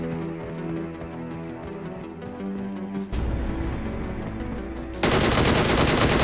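Gunfire in a mobile shooter video game: rapid automatic bursts that shift in tone partway through, then a louder, harsher stretch of continuous shooting at the end.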